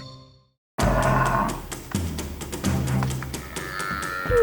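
A restless mother cow lows with deep, drawn-out calls after a brief silence, loud and near, with some farm background sound.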